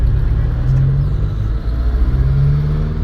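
Road traffic with cars passing close by, a loud steady engine rumble and whir with tonal hum rising and falling as vehicles move past, no talking.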